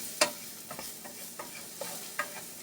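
Onions and garlic cooking down in a pan for mashed bean tacos, with a soft continuous sizzle and several sharp scrapes and stirring clatters from a utensil, fairly quiet and close.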